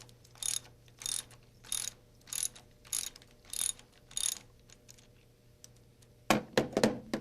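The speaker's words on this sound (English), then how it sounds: "Loosen the bolt on the slider ball ring clamp with 7/16" sockets." A socket ratchet loosens the bolt on a RotorWay helicopter's slider ball ring clamp, giving about seven evenly spaced clicking strokes, close and crisp, then a louder clatter at the end.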